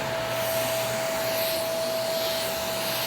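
A Shark vacuum cleaner runs steadily on a floor, giving a continuous close whirring drone with a steady high tonal whine and no talking.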